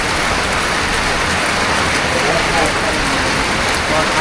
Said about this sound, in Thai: ฝนตกแล้วพี่น้องเลย